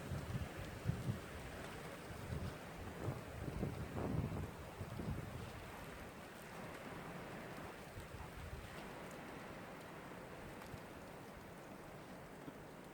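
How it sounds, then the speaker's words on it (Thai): Strong wind blowing during a heavy snowstorm on a hillside home, a continuous roaring rush with gusty low buffeting against the microphone, louder in the first half and then easing to a steady howl. "เพิ่งเสียงลมมาอีกแล้ว"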